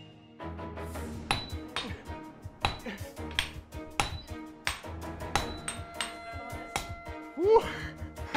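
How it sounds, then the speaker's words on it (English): Hammers and mallets strike steel being flattened for a sword, a fast irregular run of sharp metallic clinks and rings, loud and close, with a rhythm set by a smaller hammer among heavier blows. "The swordsmith using a smaller hammer would set the rhythm, and the apprentices would use big mallets to flatten the steel"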